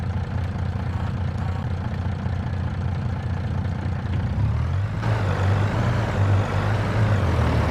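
Mack truck diesel engine idling in Farming Simulator 22 on a Missouri farm, a steady low rumble that deepens and grows a bit louder partway through, with no talk over it.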